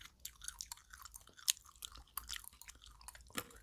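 Sugar-coated lemon jelly candy being chewed up close, with soft sticky mouth sounds and occasional louder bites over about four seconds, no talking.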